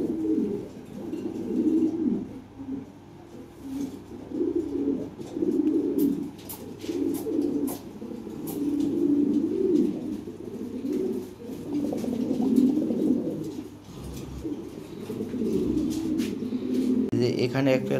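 Lahori pigeons, a ring-banded bloodline breed, coo repeatedly close by in soft throaty pulses that repeat at an even pace, with a faint murmur of people in the background.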